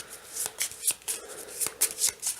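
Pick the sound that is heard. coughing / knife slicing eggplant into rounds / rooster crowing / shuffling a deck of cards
shuffling a deck of cards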